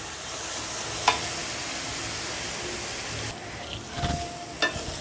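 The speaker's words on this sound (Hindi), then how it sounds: "प्याज डालने के बाद इसको 6-7 मिनट भून लेंगे।" Onions fry in a pan as a soft, steady sizzling hiss, fairly quiet, with a few brief stirring clicks and knocks toward the end and no voices.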